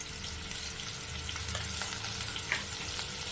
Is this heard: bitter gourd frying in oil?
yes